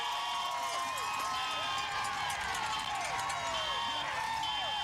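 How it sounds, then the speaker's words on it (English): A huge crowd cheers and shouts along the roadside at a cycling race finish, Stage 2 of the 2012 USA Pro Challenge in Colorado, with steady roar, whistles and horns filling the whole stretch. "There is a huge crowd."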